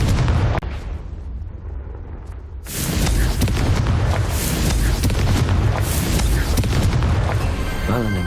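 Confringo spell explosion in the Nintendo Switch version of Hogwarts Legacy: a loud blast bursts in after a softer lead-in and rolls on as dense, sustained rumbling crackle.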